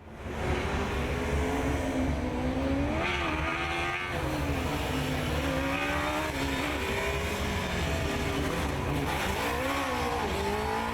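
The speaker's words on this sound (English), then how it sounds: "He's revving the engine a bit sideways, trying to get some heat into the tires" A Formula Student race car at an endurance event revs its engine loudly and continuously on track, the pitch rising and falling in wavering sweeps as it moves, with no voices.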